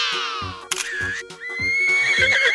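A horse whinnies loudly and close up, a long shrill neigh with breathy snorts and a falling tremble that carries through the whole stretch.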